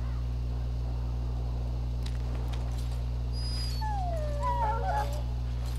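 A dog in the fantasy role-playing game Dragon Age Origins whimpers and whines softly, a few thin rising and falling cries over a steady low electrical hum, with no talking.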